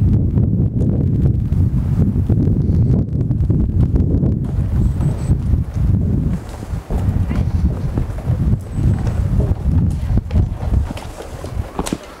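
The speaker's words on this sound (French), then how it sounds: "Oui, il y a du vent, mais c'est normal." Wind gusts buffet the microphone outdoors in a rough, fluctuating rumble that runs throughout, with brief pauses and faint background activity.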